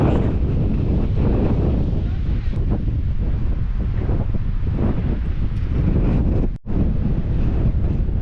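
Heavy storm wind in Turkey roars and buffets the microphone continuously, loud and close, with a brief drop near the end; a voice may be faintly buried beneath.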